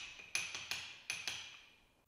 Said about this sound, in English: Short, sharp taps with the hammer will produce the best results.